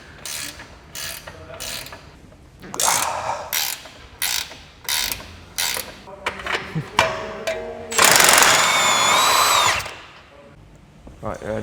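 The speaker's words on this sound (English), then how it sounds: "Now that is what we call a ratchet spanner." A ratchet spanner works on a Ferrari 296 GTB, giving bursts of rapid clicking strokes in a regular rhythm, close by, with a louder whirring tool spell near the end and someone talking between the bursts.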